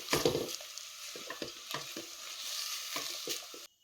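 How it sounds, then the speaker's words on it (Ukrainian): Vegetables frying in a pot for creamy potato and wild mushroom soup, a soft steady sizzle broken by several quick stirring scrapes and knocks of a utensil, close and quiet, ending abruptly. "Поки овочі обсмажуються"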